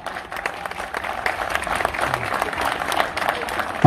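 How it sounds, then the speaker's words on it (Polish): Crowd applause at the STIHL Timbersports Polish Trophy 2022 in Sycow, a sustained clatter of many hands spread through an arena-like space, with a voice talking over it and a louder burst at the very end. "ogromne brawa!"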